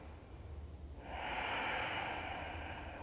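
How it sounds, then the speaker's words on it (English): A long, steady breath is drawn in during a morning vinyasa yoga flow. It is a soft airy rush that starts about a second in and continues quietly to the end, with no voice over it. "Keep breathing."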